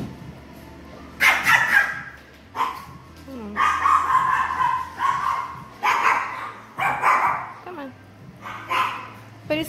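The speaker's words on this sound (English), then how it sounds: "Don't worry about the barking." A large dog, a Great Dane, barks loudly and repeatedly in short bursts indoors, with a few whimpers between barks, while someone speaks to a small dog nearby.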